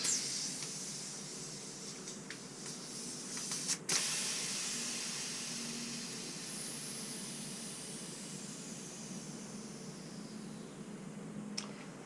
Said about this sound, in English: I'm just going to let the air out of this tyre and make sure it's completely flat